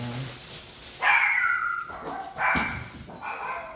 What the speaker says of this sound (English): sorry if the dogs are...